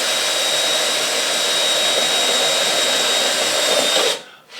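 A Mastercraft step drill bit bores a quarter-inch hole, giving a steady, loud broadband whir with a thin high whine that runs unbroken for about four seconds and then cuts off abruptly, with no talk.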